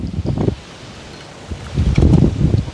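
Strong wind gusts buffet the microphone on a golf course in two loud rushing bursts separated by a quieter lull.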